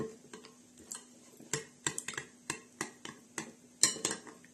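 A pie filling mixture is stirred in a bowl with a utensil, making a quick run of light clicks and taps against the bowl in an uneven ticking rhythm, close and fairly quiet.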